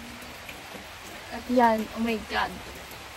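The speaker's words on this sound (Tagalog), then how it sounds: "Grabe ang ulan, hindi siya natigil." Heavy, unbroken rain falls as a steady hiss in the background while someone speaks briefly over it.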